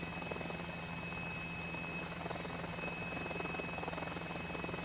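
An H125 helicopter in a flight simulator game drones on continuously with a steady rotor and turbine hum and a constant high whine, even and unchanging with no speech.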